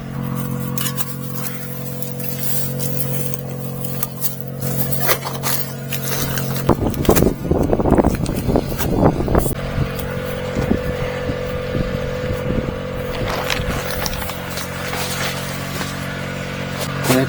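Strong wind gusts blowing steadily against a foldable pop-up greenhouse canopy outdoors, a continuous loud rushing with fabric flapping and rattling bursts, heaviest in the middle.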